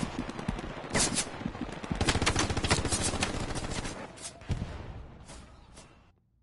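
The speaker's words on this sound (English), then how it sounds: "that's that tank shooting us in the ass" Rapid bursts of gunfire from a tank in the World War II shooter Hell Let Loose, loud and close, stuttering machine-gun volleys with heavier bangs mixed in before the firing tapers off and fades near the end.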